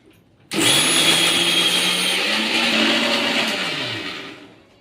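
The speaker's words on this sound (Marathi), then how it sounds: "भांड्यामध्ये सगळा मसाला टाकते आणि पटकन मिक्सर मधून ग्राइंड करून घेते" A mixer grinder grinding spices whirs loudly and steadily for about four seconds, starting abruptly and winding down at the end, with no talking.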